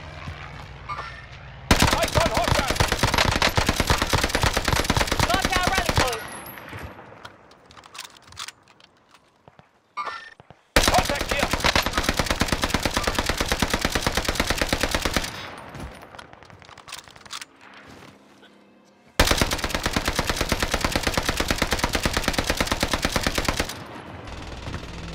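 Call of Duty Warzone gunfire comes in three long, loud bursts of sustained automatic fire, separated by quieter gaps where a voice is heard over the game.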